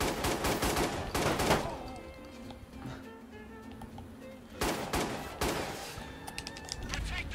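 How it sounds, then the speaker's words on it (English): Bursts of rapid gunfire from the Watch Dogs 2 video game come in two loud volleys, with a quieter stretch of game sound between them. Speech is faintly present. "I'm shooting at him."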